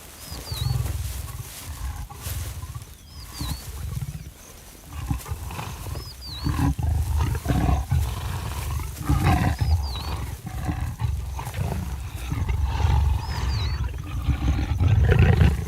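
Lions roar again and again during mating, deep and powerful pulses rising and falling over several seconds, loud and close, with a few high bird chirps repeating above them.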